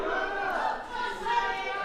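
Wrestling crowd at a live independent pro wrestling show cheering and chattering steadily during a tag-team match, a dense sustained roar with a brief swell near the end.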